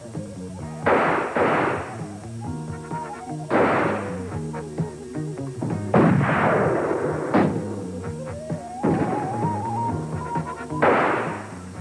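Cannon blasts and gunshots from a period bushranger drama ring out in heavy, echoing bursts every few seconds, layered over a sustained music score with no speech.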